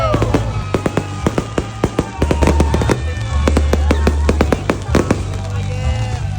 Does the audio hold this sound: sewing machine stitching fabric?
no